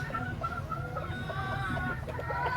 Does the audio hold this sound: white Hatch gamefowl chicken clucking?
yes